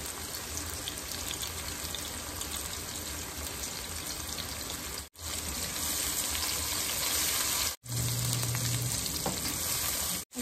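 Steady loud sizzle of spices with ginger-garlic paste, turmeric and chili powder frying in oil, continuous crackling with stirring and a few brief breaks.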